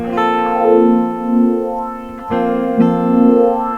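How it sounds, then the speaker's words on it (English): Electric guitar run through a Line 6 DL4 delay modeler on its sweep echo setting: sustained, bright distorted chords with repeating echoes whose tone slowly swells and sweeps under a filter, loud and up close. "Sweep echo,"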